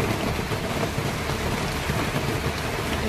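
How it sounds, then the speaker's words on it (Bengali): Steady rain falls outdoors in the evening during a power cut, a dense, even hiss of drops on surfaces that stays constant throughout with no voices. "এই যে বৃষ্টি হচ্ছে।"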